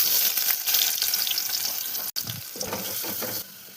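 Chopped onion hits hot oil already seasoned with five-spice and dried red chilli for mung dal, giving a steady, fairly loud hiss and sizzle that briefly cuts out and then continues with faint stirring.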